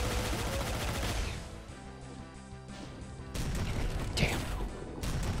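Rocket launcher blasts in the Back to Saturn X Doom mod, heavy booming explosions after a rumbling stretch of game noise, one sharp blast standing out near the end; a voice is faintly present.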